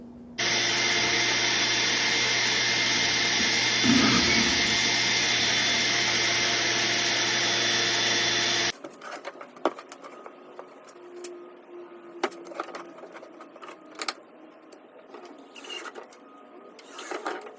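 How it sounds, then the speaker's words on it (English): A power drill bores pocket holes in wooden face frame pieces, a loud continuous whine held for about eight seconds before cutting off, followed by quieter clatter and handling knocks. "I'm gonna put some pocket holes in them"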